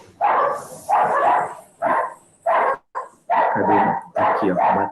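Several agitated dogs bark in loud, repeated bursts close by, set off by a garbage collector passing outside; the barks come in quick runs with short gaps between them.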